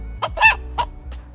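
A rooster crows close by in one short, loud burst, with a few clucking notes on either side.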